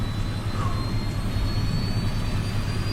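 Airliner jet engines running after an in-flight restart, a loud, steady, continuous roar with no speech.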